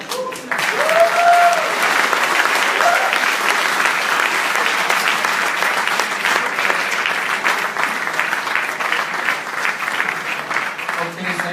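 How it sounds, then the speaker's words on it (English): An audience at a Makeathon presentation applauds steadily for the whole stretch, a loud, even wash of clapping with brief whoops near the start. "thank you very much for the applause"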